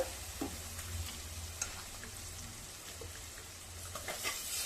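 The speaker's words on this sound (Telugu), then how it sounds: "పేస్ట్ బాగా వేగింది ఈ స్టేజ్లోనే నేను తగిన పసుపు వేసి మళ్ళీ ఒకసారి కలిపి" Masala paste frying with turmeric for a brinjal curry gives a steady low sizzle with occasional soft stirring scrapes, moderately close and continuous, with no one talking.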